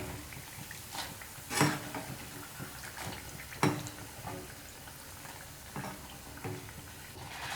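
Paal paniyaram frying in oil over a medium flame, a soft steady crackle with a few sharper bursts and pops as the batter balls cook.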